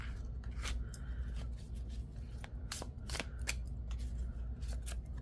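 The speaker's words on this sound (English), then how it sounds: "we'll start by picking 5 cards from the Visionary Tarot" Tarot cards from the Visionary Tarot deck are drawn one by one, giving soft close slides and flicks of card stock in irregular snaps over a steady low hum.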